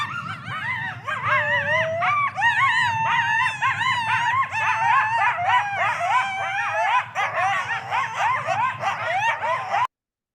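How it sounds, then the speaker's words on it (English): A group of coyotes howls and yips together, overlapping wavering, rising-and-falling calls that run continuously for about ten seconds before cutting off abruptly. "So that's an example of coyotes howling."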